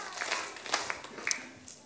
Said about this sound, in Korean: 기도 박수 3번.